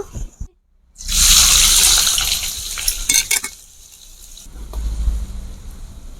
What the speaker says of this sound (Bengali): কিছুটা পেঁয়াজ দেখুন এইভাবে কেটে নিয়েছি তেলের মধ্যে দিয়ে দেব